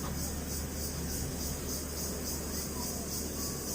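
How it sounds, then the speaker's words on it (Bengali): Crickets chirp steadily at a seaside resort and spa, a continuous high, buzzy drone that holds even through the whole stretch over a dense, constant background hiss. "আর ঝিঝি পোকার ডাক শুনতে পারছেন?"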